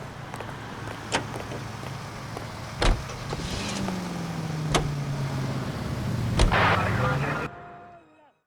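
Car in the video game L.A. Noire idling with a low engine hum, a few sharp door-like clunks and a short revving sweep, ending abruptly.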